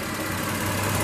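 A 2017 Volkswagen Touareg Wolfsburg Edition with its 3.6-liter V6 running under an open hood, a steady close idle hum and low mechanical drone that swells slightly near the end, with no voices.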